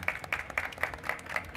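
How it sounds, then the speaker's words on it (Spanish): A short, fairly quiet patter of applause from a conference audience after a talk on virtual and mixed reality, with rhythmic claps sounding moderately distant. "un aplauso súper fuerte"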